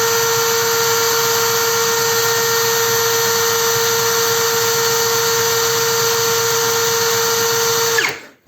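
A DRIVAK ED002 cordless screwdriver runs flat out at top first-gear speed, a steady, loud, close motor whine with a constant pitch that holds for about eight seconds and then cuts off abruptly.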